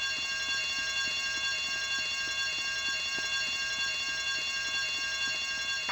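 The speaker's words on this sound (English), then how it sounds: "I told you not to touch that alarm!" A continuous electronic alarm rings during a heist in Grand Theft Auto Vice City, a steady high-pitched tone with a fast regular pulse that stays loud and unbroken with no talk.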